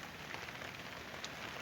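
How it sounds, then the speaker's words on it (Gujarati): Steady rain falls on a farm near Sihor, Bhavnagar, as a soft, even hiss of drops with a few brighter patters, fairly faint and without voices. "જો આ વરસાદ તમને તમારી નજરની સામે સારામાં સારો શરૂ છે."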